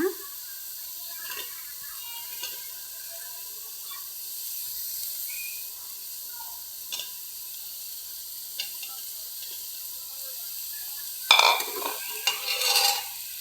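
Mushrooms stir-frying in a pan for a mushroom biryani give a soft, steady sizzle and hiss throughout, with a few scrapes of stirring and a louder burst of clatter near the end.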